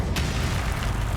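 A loud Confringo blasting spell explosion in Hogwarts Legacy, a single sharp burst followed by a dense rumbling roar that fills the short moment.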